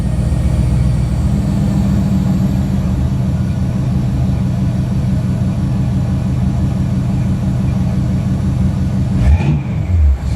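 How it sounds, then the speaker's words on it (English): A 455 big block V8 in a G-body runs loud and steady throughout, a close, continuous low rumble with a brief shift in tone near the end. "Start her up. Now you see she fire right up now."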